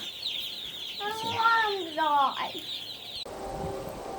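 Chickens clucking in a pen on a farm with new chicks, old hens and new layers, several close, drawn-out clucks and calls over a second or two, followed by windy outdoor noise.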